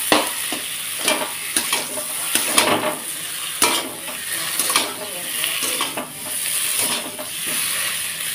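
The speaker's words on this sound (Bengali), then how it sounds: "তো এই যে ভালোভাবে দেখো কষিয়ে নিচ্ছি আমি এটাকে, আর আলুটাকে একটু ভাঙা ভাঙা করে দিচ্ছি।" New potatoes with spices being sautéed and stirred in a wok, a soft sizzle under repeated scraping strokes of a spoon against the pan, close and fairly quiet with no talk.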